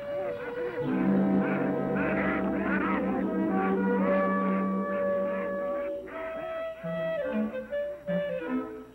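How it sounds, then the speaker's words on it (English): A flock of Canada geese honks and calls continuously, many overlapping voices fairly close, with a steady low hum beneath. "Canada geese. Quite a few flights over the past few days."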